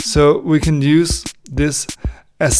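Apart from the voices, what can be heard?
No everyday noises stand out.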